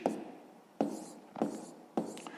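Pen scratching on paper while writing out a math calculation, four short bursts of strokes with brief pauses between them, close and quiet.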